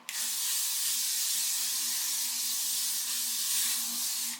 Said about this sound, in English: Also just going to give it a quick spritz with my Sam McKnight Multitask Styling Mist.